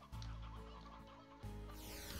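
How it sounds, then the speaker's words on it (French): Clucking from a rooster in the game Slime Rancher, two quiet bursts of throaty fowl calls close up, with no talk over them. "Ici, on récupère un coq."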